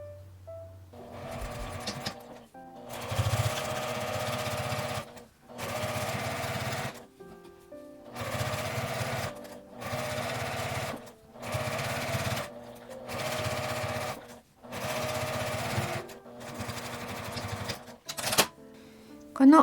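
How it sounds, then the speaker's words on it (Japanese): Sewing machine stitching around the top edge of a small fabric wallet: repeated bursts of rapid mechanical whirring and needle clatter, each a second or two long, separated by brief pauses, close and clear. "上端をぐるりと縫います。"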